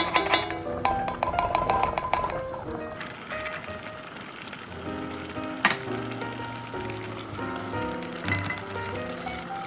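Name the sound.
braised short rib sauce boiling and reducing in pan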